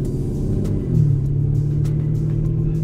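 An Aston Martin Vanquish grand tourer's engine gives a low, steady rumble while driving, with a deeper note settling in partway through, moderately loud and continuous.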